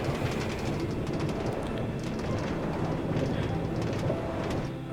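Steady clattering rumble of a Minecraft minecart rolling along rails, continuous rhythmic clicks and rattles at a moderate level, with no voices.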